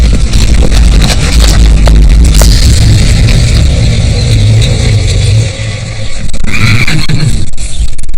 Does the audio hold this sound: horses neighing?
yes